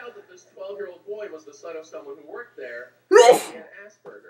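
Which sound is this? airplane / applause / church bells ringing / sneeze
sneeze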